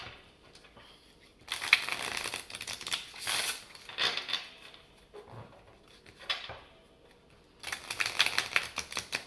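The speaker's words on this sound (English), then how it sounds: "So I'm just giving this here a quick shuffle." Botanical Beasts oracle deck cards being shuffled, several quick bursts of riffling and flapping card noise separated by short quiet gaps, close and fairly soft.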